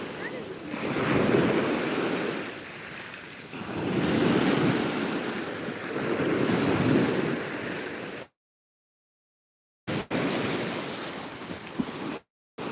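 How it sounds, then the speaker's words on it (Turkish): Sea waves wash onto a beach in slow repeated surges, mixed with strong wind rumble on the microphone, before the sound cuts out briefly near the end. "Burası böyle böyle ara ara dalga çıkar ve yok olur öne."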